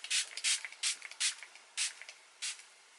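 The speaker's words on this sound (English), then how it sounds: "I'm just going to spritz this all over my face" Revolution Pro Prime Aqua priming base spray misted onto a face in a run of short, close, hissing spritzes, about six bursts with brief gaps between them, no talking.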